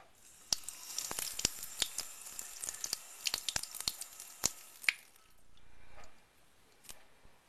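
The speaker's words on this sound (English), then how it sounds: "I'll pour some water and show how repellent it is" Water is poured onto a porcelain sink freshly treated with Clean and Shine, giving close, sharp droplet taps and splashes in an uneven patter, then a short softer rush of flowing water near the end.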